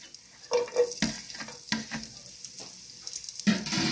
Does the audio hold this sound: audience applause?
no